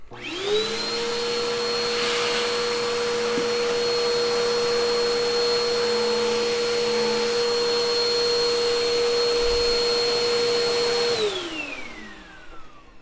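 A Bissell PowerForce bagged 1739 vacuum cleaner switches on with a rising whine, runs loud and steady with a high motor tone for about ten seconds, then winds down as it shuts off.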